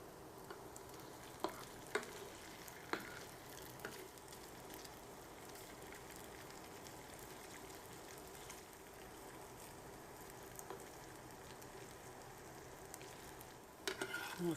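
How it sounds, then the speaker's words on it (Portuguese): Beef meatballs fry in hot oil with a continuous soft sizzle. A few sharp utensil clinks sound near the start and a clatter comes at the end. "O óleo está quente, vamos colocar os bolinhos."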